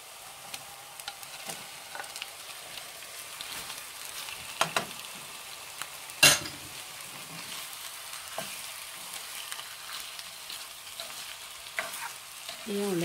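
Peeled red shrimp sizzle gently with onions in a pan for a curry, a steady soft frying hiss broken by occasional utensil scrapes and one sharp clink.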